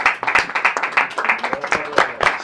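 A crowd claps and applauds in a dense, uneven patter of hand claps, close and loud, with voices mixed in.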